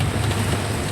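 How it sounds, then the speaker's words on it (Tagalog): Heavy rain pours in a steady, dense hiss that stays loud and even throughout, with no voices. "Grabing ulan dito"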